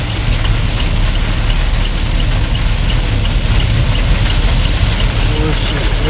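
Heavy monsoon rain pouring steadily around a transport vehicle with its engine idling, a dense unbroken roar of rainfall, loud and close throughout.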